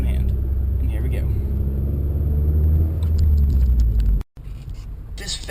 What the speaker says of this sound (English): Now I'm turning with one hand, I'm driving stick with one hand.